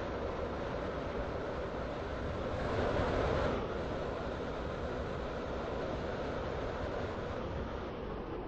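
A train rolls steadily into a station in a railway video game, sending out a continuous loud rumble and rattle of wheels on track, with a slight swell midway and no voices.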